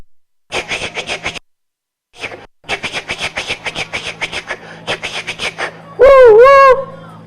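A parade crowd at a town square chants rhythmic choo-choo bursts, mimicking a train, then finishes with a loud, wavering woo-woo whistle imitation; human voices imitate the train throughout.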